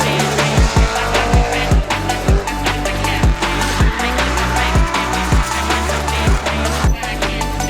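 JDM drift cars, S chassis, Skylines and 86s, run a qualifying round at an FD Japan international circuit, with loud continuous engine roar, repeated gear-shift drops and sustained tire squeal filling the whole stretch.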